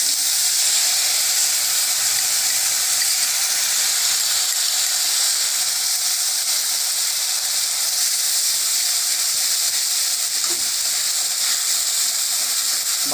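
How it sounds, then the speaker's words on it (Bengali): Ground spice paste dropped into hot mustard oil with fenugreek seeds for a Bengali fish curry, giving a loud, steady, hissing sizzle that holds unbroken throughout. "মেথিটা দেওয়ার পরে এবার আমি বাটা মশলাটা দিয়ে দিচ্ছি।"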